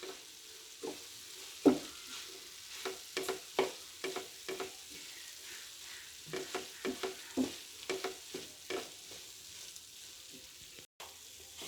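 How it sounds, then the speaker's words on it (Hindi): Keema mixture with sauce being stirred in a pan, a series of soft scraping, clacking spoon strokes in an irregular rhythm over a faint sizzle, close and fairly quiet, with no talking. "अच्छे से मिक्स करूँगी।"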